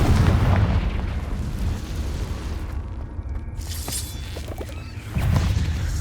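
Confringo fire-spell blasts from Hogwarts Legacy combat, rumbling explosive booms that roll continuously with a lull in the middle, then swell again near the end, loud and up close with no talk.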